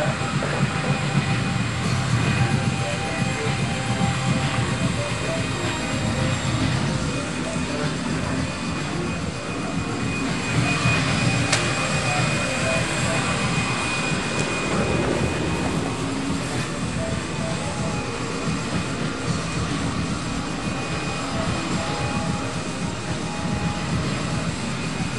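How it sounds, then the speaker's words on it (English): Vacuum cleaner running indoors, a loud, steady motor roar with a high whine that holds for the whole stretch and shifts slightly as the nozzle moves. "Finally somebody else vacuuming."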